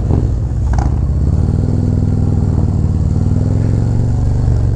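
A motorcycle engine rumbles loud and close through its aftermarket exhaust, holding a steady, continuous running note throughout with no pauses.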